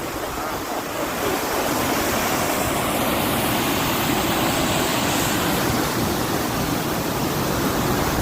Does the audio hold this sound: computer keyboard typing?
no